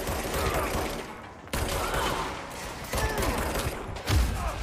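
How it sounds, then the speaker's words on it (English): Gunfire in the game Control, a series of sharp shots with abrupt cuts and thuds against a busy, reverberant backdrop, loud and close, with someone talking briefly. "Oh, who's shooting at me?"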